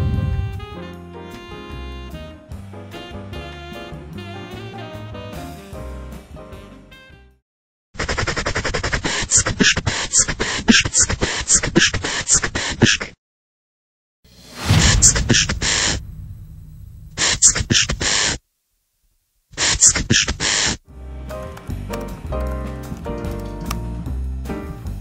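Synthetic text-to-speech voice in German rattling off strings of consonants as a beatbox, with choppy bursts broken by abrupt silences and a musical backing at the start and end; the voice imitates percussion.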